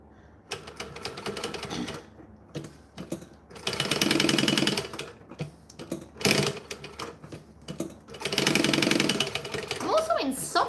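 A sewing machine stitches in fast rattling bursts that start and stop, close and fairly loud, with a person talking between and over the runs.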